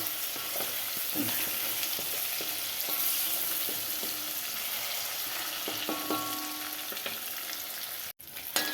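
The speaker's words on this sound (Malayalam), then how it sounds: "മീൻ വറുത്ത് കൂടി എടുക്കാം" Fish frying in a pan, a continuous close crackling sizzle with occasional spatter pops and light utensil clinks, steady throughout until a brief break near the end.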